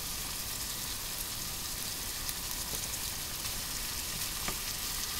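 Ground meat for bolognese sauce searing in a hot pan, a dense, even, rain-like sizzle heard close and fairly loud throughout, with faint pops and no speech.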